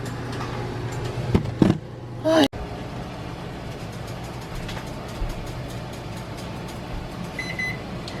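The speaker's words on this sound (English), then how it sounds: "you can hear my timer just went off" A kitchen timer gives a few short electronic beeps early on, with a faint tone again near the end, over a low steady hum of the room.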